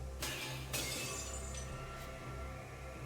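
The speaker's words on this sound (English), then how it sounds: "Her crystalline barrier shatters under the deadly rain of so many weapons." A crystalline magical barrier shatters like glass in the visual novel game Fate/stay night Remastered, with two or three sharp bright breaking bursts over a steady low hum, no talk.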